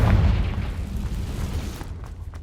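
A Confringo fire spell explodes in the Hogwarts Legacy video game: one loud, deep boom that rumbles on and slowly fades over a couple of seconds, with no talk.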